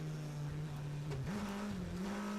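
A Radical race car at Silverstone holds a steady engine note, then dips and rises in pitch as it shifts and passes, loud and fairly near, with crowd and track noise underneath.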